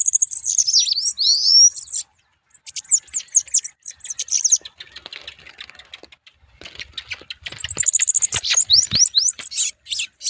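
A bananaquit sings close by in quick bursts of high thin twittering and sweeping whistles, broken by short pauses, with some clicking and tapping noises between phrases.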